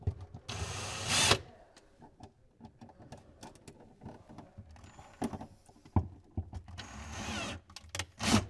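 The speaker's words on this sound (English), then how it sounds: "And I like to use my drill for the device screws." A cordless power drill drives the device screws on an electrical receptacle in two short, loud whirring bursts, one near the start and one near the end, with light handling clicks in between.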